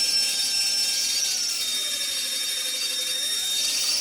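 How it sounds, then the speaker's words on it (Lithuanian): A power drill bores holes into stainless steel, giving a continuous high, strained whine with shifting pitch, close and loud throughout. "Dabar reikia dar prasigręžti paskutinės skyles į tą nerūdijantį plieną."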